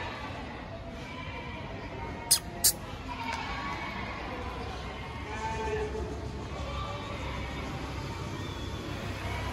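Goats bleating at the Deonar goat market in Mumbai, with a few faint calls scattered through a busy outdoor crowd murmur, including two sharp, brief sounds near the start.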